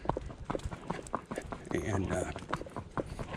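A stallion's hooves clip-clop in a quickening trot on firm ground while being ridden, steady and close, while someone talks over them.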